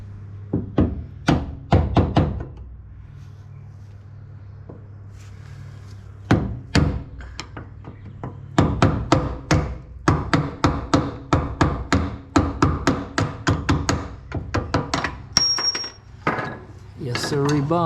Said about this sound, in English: now I'm just gonna pop this through with a hammer on the back end and just push it all